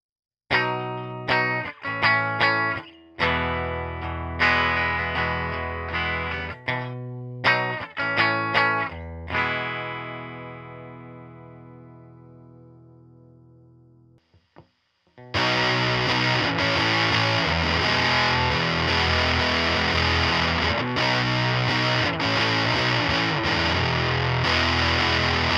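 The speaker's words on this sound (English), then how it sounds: "I made a clone circuit of the Dallas Arbiter fuzz face." An electric guitar runs through a homemade clone of a Dallas Arbiter Fuzz Face distortion pedal: a string of plucked notes and chords rings out and fades to near silence, then a loud, dense, sustained fuzzed-out wall of sound takes over.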